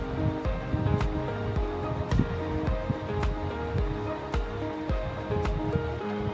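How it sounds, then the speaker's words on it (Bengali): Boiled macaroni is poured out to drain its cooking water, making a sloshing, splashing rush of water with irregular gushes close by and no talking. "সিদ্ধ হয়ে যাওয়া ম্যাকারনিগুলো চুলা থেকে নামিয়ে পানি ছেঁকে নিচ্ছি"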